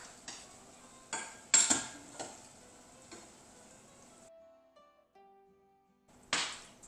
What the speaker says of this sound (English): We're adding the liquid, and you're going to stay here, and you're going to stir